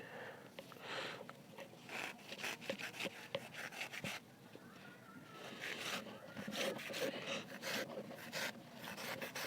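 A knife drawn back and forth through material for a dotcom bag handle makes quiet, repeated rasping strokes in an irregular rhythm, close but faint.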